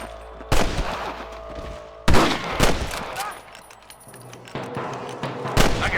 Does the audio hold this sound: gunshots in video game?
yes